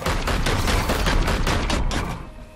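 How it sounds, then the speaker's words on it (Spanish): Dense rapid gunfire from a fusillade in the video game Warhammer 40K: Chaos Gate Daemonhunters, loud continuous bursts of shots that ease off slightly at the end. "Eso es disparo por parte de otro de nuestros compañeros sobre esas posiciones."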